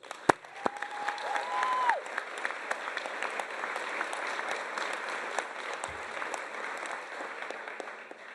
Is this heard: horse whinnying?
no